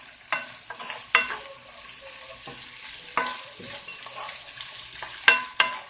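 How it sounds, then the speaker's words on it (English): Shrimp sizzle in a frying pan while a utensil stirs them, giving repeated scraping strokes over a steady soft crackle of frying, with no talking. "Stirred all that good flavor in there together."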